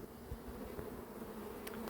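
A honeybee swarm from a runaway swarming at Ozoir-la-Ferrière hums steadily in a dense, continuous drone. It runs unbroken and close throughout the clip with no voices over it.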